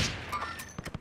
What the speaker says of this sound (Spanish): Y se disparan por ahí atrás